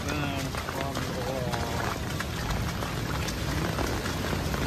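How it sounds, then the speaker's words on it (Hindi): Dense, steady hiss of heavy monsoon rain from a cloudburst pouring down close by near a flooding river in Kotdwar, Uttarakhand, with a voice talking over it. "बारिश"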